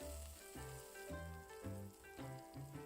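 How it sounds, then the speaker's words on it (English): Food sizzles and crackles in a hot frying pan, close and faint, with a pulsing rhythm of repeated bursts and no talking over it. "Listen to that sizzle!"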